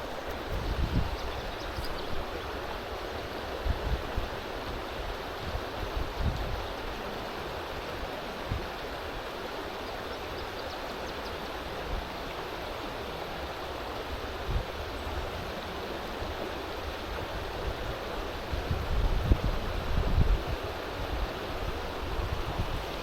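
Shallow stream water flows with a steady, soft rushing that continues unbroken, with occasional low bumps and gusts of wind noise close by.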